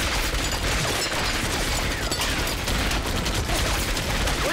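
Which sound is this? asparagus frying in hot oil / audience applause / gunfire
gunfire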